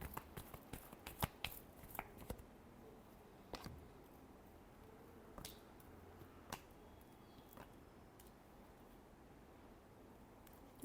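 Tarot cards being shuffled for a Scorpio love reading: a run of sharp, faint card snaps and flicks, bunched at the start, then sparser taps over a quiet background hiss, with no talking.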